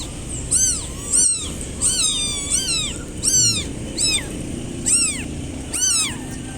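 Cats meow repeatedly while eating, about eight loud, close, drawn-out meows in an irregular rhythm over a low background rumble.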